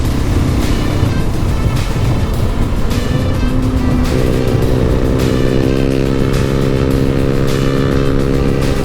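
A 2020 KTM 500 EXC-F motorcycle on a street ride, its engine loud and close, droning steadily and then shifting to a higher, steady pitch partway through, with no talking.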